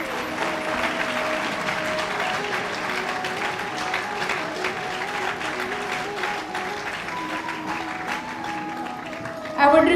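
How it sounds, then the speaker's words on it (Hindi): Sustained applause from a seminar audience at a college, steady clapping throughout with a brief louder burst right at the end. "तालियां बजाते रहें."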